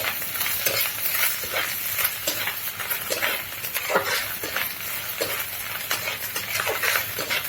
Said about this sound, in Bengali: আমি এইভাবে পেঁয়াজ মরিচ আর রসুন কাটাটা দিয়ে দেবো দিয়ে একসঙ্গে একটু নেড়ে চেড়ে লাল করে নেব পেঁয়াজ রসুনটা